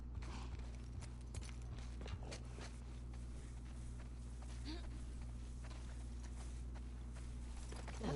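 Horse hooves in The Last of Us Part II clip-clop in a steady walking rhythm under a constant low hum, faint and even.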